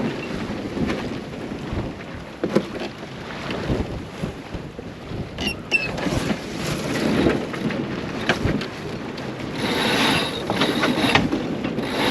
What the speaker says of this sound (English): allow me to commend the 7-year-old Raymarine EV100 wheel pilot